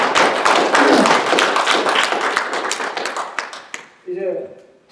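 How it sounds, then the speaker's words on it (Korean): An audience at a lecture in Chicago breaks into a burst of clapping, loud at first and then thinning out into scattered claps before a voice resumes. "이 대목에서는 박수가 나와야 됩니다."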